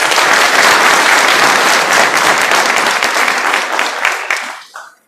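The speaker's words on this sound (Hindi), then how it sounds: "एक बार आपके लिए जोरदार ताली।" Loud, dense applause from an audience at a Rajkot motivational event, a sustained wash of clapping that gradually thins and fades away near the end.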